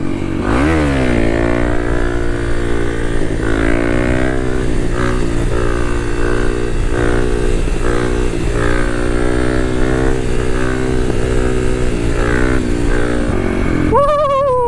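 A Kawasaki KLX dual sport motorcycle on a street, engine revving hard and holding loud, throbbing throttle through a wheelie for many seconds before easing off near the end.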